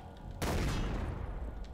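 A four-barrelled shotgun fires in Far Cry: Blood Dragon, a sudden loud burst that decays into a rough, noisy rumble over under two seconds.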